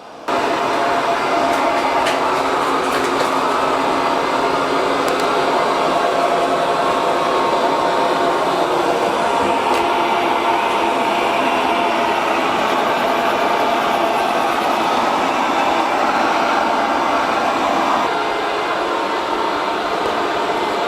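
A Viomi Alpha 2 Pro robot vacuum cleaner running nonstop, a loud, close, even whirring hum of motor and suction holding steady for the whole stretch, with no voices.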